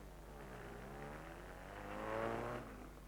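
A new Alfa Romeo rally car driven by Prince Lanza di Trabia leaves the start of the 1951 Monte Carlo Rally, its engine note faint and slightly distant as it revs and climbs in pitch while pulling away.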